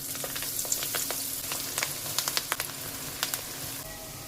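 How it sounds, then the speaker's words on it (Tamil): Onion pakoda batter dropped in small lumps and crumbs into hot oil, fizzing in a steady broad hiss with scattered crackling pops and a few sharper clicks, close and moderately loud, no voices. "எண்ணெய் நல்லா சூடானதும் கொஞ்சம் கட்டியாகவும் கொஞ்சம் தூளாகவும் போட்டு எடுத்துக்குவோம்."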